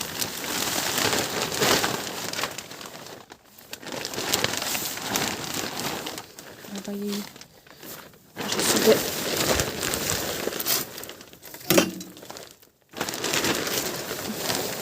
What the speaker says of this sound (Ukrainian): треба цю плівку, щоб вона висохла, скласти її